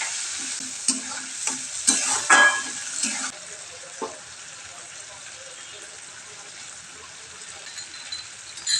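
Spices with sour yogurt for a pointed gourd curry are stirred and fried over a lowered gas flame, giving soft sizzling with a few louder scraping bursts early on, then a quieter steady hiss.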